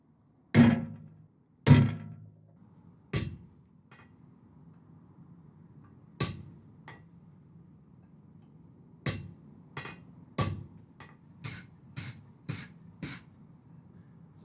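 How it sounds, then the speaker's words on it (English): Hot metal is hammered on an anvil while forging a sculpture: sharp, ringing blows with long pauses between them, then a quicker run of strikes toward the end, close and clear. "I'll probably actually punch them properly in on the anvil rather than in the vise"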